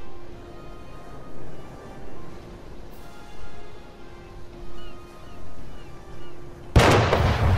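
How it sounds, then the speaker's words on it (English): Artillery shells landing in Arma 3, a low rolling rumble of distant impacts pulsing every second or so under a steady hum, ending in a sudden loud, sharp blast. "you can create massive random artillery around a certain area"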